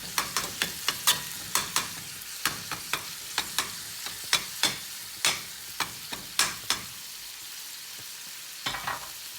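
Meat for an omelette cooks in a hot pan, a steady sizzle broken by a long run of sharp clicks and scrapes as it is stirred, close and alone without talk.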